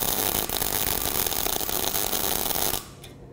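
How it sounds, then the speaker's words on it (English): Electric arc welding on metal plate gives a steady, even buzzing crackle close by, running continuously for nearly three seconds before cutting off abruptly into quiet. "When I hear the good regular buzzing sound, I'm moving at a regular speed."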